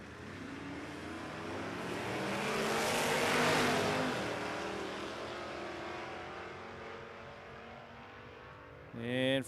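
A drag racing pass at Warwick Dragway in Australia, with cars launching and roaring down the strip. A loud engine rumble swells, peaks, then fades into the distance before a nearer engine revs sharply at the very end, with commentary faintly underneath.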